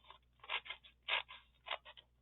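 Scissors snipping through card, several crisp crunching cuts in quick bursts, close and fairly quiet, with short pauses between them.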